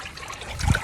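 Water trickling and sputtering from a broken irrigation sprinkler head and pipe, a soft close dribble with a brief gurgling burst near the end.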